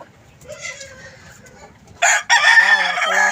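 Gamefowl chickens of the Gilmore and Golden Boy breeds cluck softly in a pen, then a loud, close rooster crow bursts out and carries on in a long drawn call.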